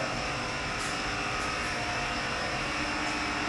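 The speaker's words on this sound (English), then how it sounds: "air compressor is going. I'm airing up the tire" A steady, loud mechanical drone from an air compressor running while a tire is aired up during a Pontiac Fiero trailer build, filling the clip continuously at an even level with no speech.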